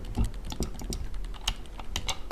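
An Amiga joystick, used with an Amiga 500 Plus, clicks as it is moved, giving quick irregular close-up clicks with no talking.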